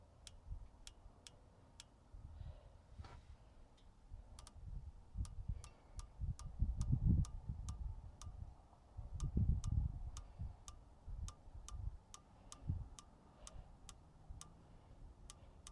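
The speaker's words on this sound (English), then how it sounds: "I'm going to go 8 clicks to the right, and then about 24 clicks up in elevation." A rifle scope's windage and elevation turret on an Alex Pro Firearms Elite LPR 6.5 Grendel rifle is turned in a long, steady series of crisp, evenly spaced clicks, close and fairly quiet over low rustling handling noise.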